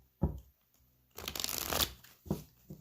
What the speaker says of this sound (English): Let's get the card shuffled really well.